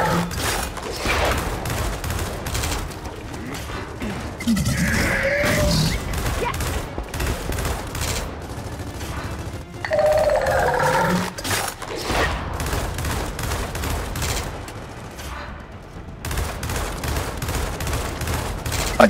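Gunfire in Gears of War 4 during an Insane co-op campaign comes as dense, rapid bursts of automatic fire and repeated shots, loud and continuous, with heavier blasts mixed in and players talking over it.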